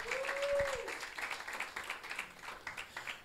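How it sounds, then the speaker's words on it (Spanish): Faint, steady applause from a church congregation, with a brief sung or held tone at the start and murmuring voices underneath. "dale un aplauso al Señor."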